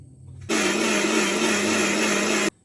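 A mixer grinder in a home kitchen grinds coriander, yogurt and curry leaves for a chicken marinade. Its loud, steady motor whirr starts abruptly, runs about two seconds, then cuts off sharply.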